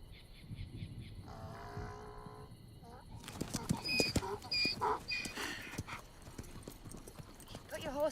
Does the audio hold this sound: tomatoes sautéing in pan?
no